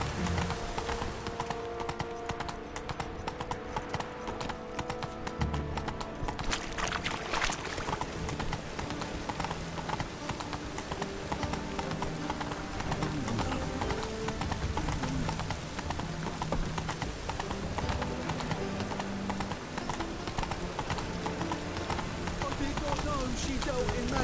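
Roach the horse running in The Witcher 3, hooves clip-clopping in a steady rhythm throughout over game music and ambience, with a brief whinny and occasional speech mixed in.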